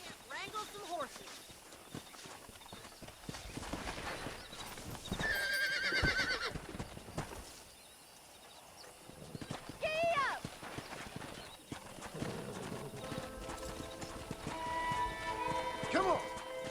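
Horses in the Red Dead Redemption video game clop their hooves steadily and neigh several times during wrangling, with game music and voices talking alongside.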